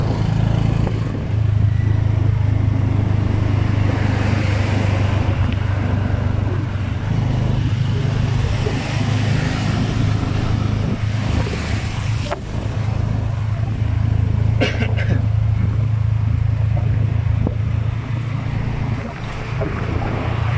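Traffic of cars and motorbikes on a busy Phnom Penh road near an overpass, heard as a steady, loud roar of engines and wind-like rushing that runs the whole time, with no talk.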